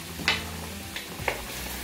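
Onion and celery sautéing in a pot over high heat, a steady soft sizzle with a few faint stirring scrapes, close and fairly quiet.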